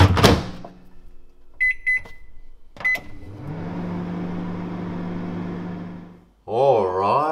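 A microwave oven heats a chicken carbonara ready meal for two minutes, a steady low hum running for several seconds after a few short beeps and a door clunk, ending in louder tonal beeping.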